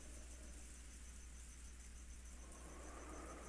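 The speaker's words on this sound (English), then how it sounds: "I really cannot stand the sound of crickets" A steady, dense insect chirring fills the background, constant and fairly faint, with no voices.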